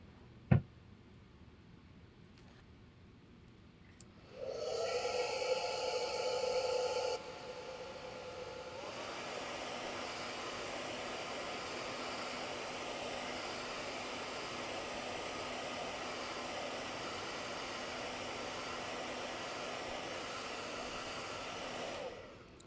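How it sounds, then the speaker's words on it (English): A hair dryer blows hair dry, switching on after a sharp click with a loud high setting for a few seconds, then dropping to a steadier, softer whoosh that runs continuously until it cuts off. "I'm going to blow dry again."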